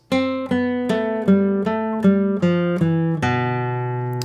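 Plucked guitar notes in a steady sequence, two voices moving together, each note ringing into the next, close and clear.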